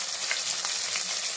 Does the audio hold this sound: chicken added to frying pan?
yes